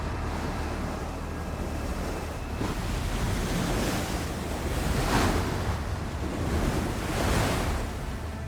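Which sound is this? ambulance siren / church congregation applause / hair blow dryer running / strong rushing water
strong rushing water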